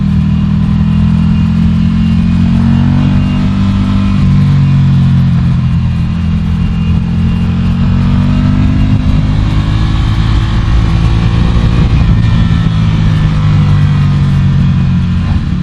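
Close and loud, a Ducati Scrambler Café Racer motorcycle engine drones steadily while riding, with gentle swells in pitch and one throttle change partway through.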